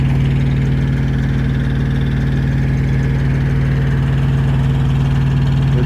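A 2018 Freightliner Cascadia truck engine idles steadily, a loud, close, even diesel rumble with no change in pace throughout.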